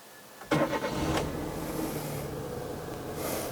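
A Chevrolet (Daewoo) Matiz Classic small car's engine idles with a steady low hum. A sharp onset just after half a second could be the engine catching or a door closing, and the hum then continues evenly up close with no talking.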